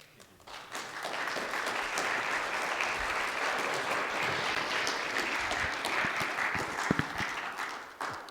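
An audience at a lecture on immigration in America breaks into steady, dense applause shortly after the start and keeps clapping evenly for about eight seconds, fairly close and with no talk over it.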